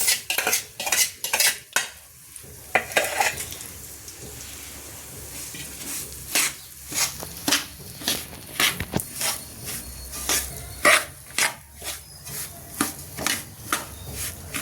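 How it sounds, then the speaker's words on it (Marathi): Semolina roasting in ghee for prasad sheera, stirred with a metal spoon that clinks and scrapes the pan in quick repeated strokes over a faint sizzle, close by, with no talk. "तूप घातल्यावर रवा त्याच्यामध्ये फ्राय करून भाजून घेत आहोत."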